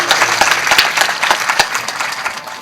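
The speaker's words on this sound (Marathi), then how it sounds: "वाजवा टाळी" Audience clapping at a Marathi kirtan gathering, a short burst of brisk, fairly close applause with sharp individual claps standing out.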